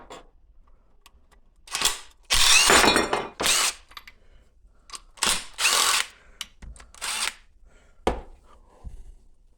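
Power tool spinning out bolts on a 1985 Toyota Tercel engine during a water pump job, several short whirring bursts of varying length with quiet gaps, up close.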